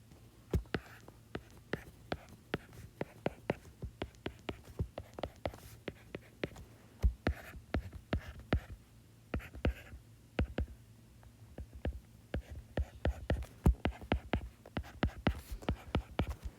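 A Lewis structure is drawn by hand, giving a quiet, close series of irregular pen taps and short scratching strokes across the page, with brief pauses between bursts.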